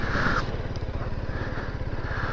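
BMW G310GS Rallye motorcycle engine running with a steady, rapid single-cylinder pulse, close and moderately loud, holding an even idle-like rhythm with no speech.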